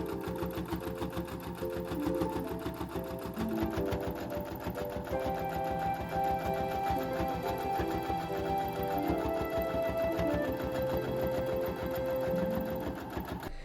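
A sewing machine quilts fall rag quilts in a steady, rapid stitching rhythm that runs close and even for the whole stretch, with no talking over it.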